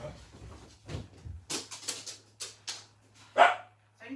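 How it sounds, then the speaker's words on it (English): A dog barks indoors at post coming through the door, several sharp barks at irregular intervals with a louder one near the end, while someone talks underneath. "The dog's is barking, not joining in because some post has just come through the door"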